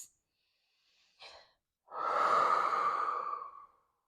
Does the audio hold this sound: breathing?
yes